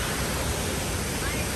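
Water pours into the 9/11 Memorial waterfall pool in Manhattan, heard as a brief, steady, full rushing wash with no break.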